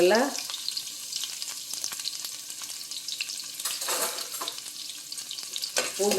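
Crushed garlic hits hot oil after mustard seeds have popped, frying for a dal and brinjal gravy: a loud, continuous crackling sizzle with sharp spatters and a few stirring scrapes, no talking.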